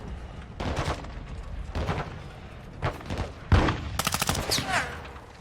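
Gunfire from the PC video game Call of Duty Modern Warfare 2, with bursts and single shots at moderate loudness, some closer blasts near the end, over a background of faint battle noise.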